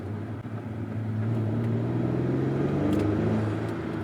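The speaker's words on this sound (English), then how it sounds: "Oh yeah, you can hear that turbo blow off sound." A 2022 Acura TLX A-Spec SH-AWD accelerating hard in sport mode from a green light, heard from inside as a loud, steady turbocharged engine drone rising in pitch, with a faint turbo blow-off hiss.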